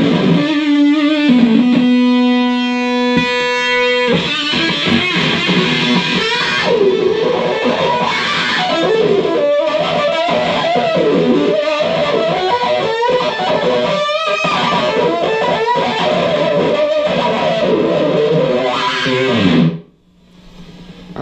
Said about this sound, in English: Go back to 70s rock D distortion with the octave on.